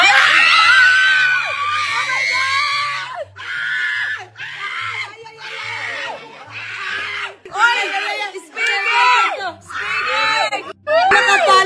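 Excited screaming and shouting from a group of people, with laughter mixed in, loud and close, rising and falling in bursts over continuous chatter.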